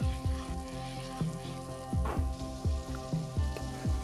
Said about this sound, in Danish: Vi starter med at riste bollerne.